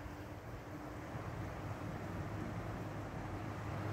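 Steady outdoor wind blows continuously at an RV park, with a broad rushing roar and low buffeting rumble that holds even and moderately loud throughout, no voices present.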